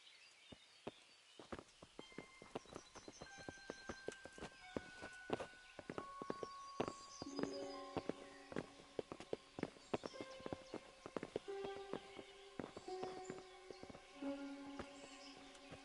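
Horse hooves clip-clop on ground in the medieval game Kingdom Come: Deliverance, a run of irregular close thuds and clatters that grows busier, with ringing tonal sounds layered over them.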